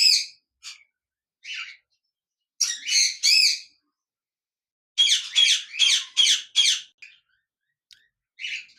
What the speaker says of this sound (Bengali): এখানে দেখতে পাচ্ছেন একজোড়া কোকাটেল পাখি রয়েছে